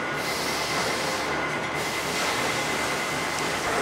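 A Chicago 1012L press brake, 90 ton and 12 foot, cycles under foot treadle control, producing a dense, continuous mechanical roar and rumble with no pauses and no talk.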